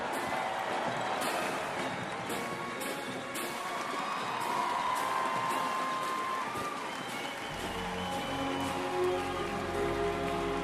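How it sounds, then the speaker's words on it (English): Crowd at a U.S. Army military parade in Washington, D.C., applauding and cheering the 82nd Airborne Ceremonial Band, a dense, continuous wash of clapping and distant whoops that fills the whole stretch, with a low rumble creeping in near the end. "Give them a big round of applause, the 82nd Airborne Ceremonial Band"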